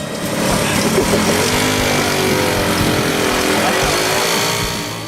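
A scooter engine runs on a dyno at an amateur photographers' shootout, a loud, continuous, buzzing drone that rises slightly in pitch as it revs, with voices faintly underneath.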